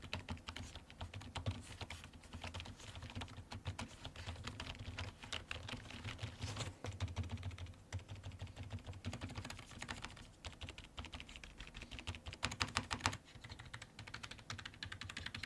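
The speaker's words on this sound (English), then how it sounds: "now let's do a quick typing test on the keyboard" Typing on a Logitech MK370 keyboard, a quiet, ultra-silent model, gives a rapid, steady stream of soft, muffled key taps close by, with no speech.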